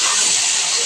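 Leafy greens tipped into hot oil already frying dried chili and garlic, giving a loud, dense, continuous hiss that fills the whole brief moment at close range.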